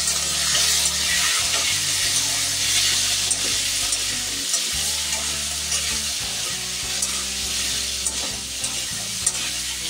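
Tomatoes and green chillies stirred in a hot pan, a steady loud sizzle of frying with scraping spoon strokes throughout, no voices.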